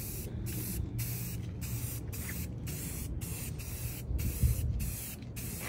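Spray paint hisses from an aerosol can in a series of short, evenly spaced bursts with brief pauses between them while a first coat goes onto a mini fridge, close and steady.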